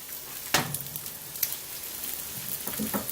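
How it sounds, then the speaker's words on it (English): Courgettes and aubergines frying on a griddle pan, a soft continuous sizzle broken by a few sharp crackles and spits, close and fairly quiet, with no talking. "I'm going to put the courgettes and the aubergines in the griddle pan"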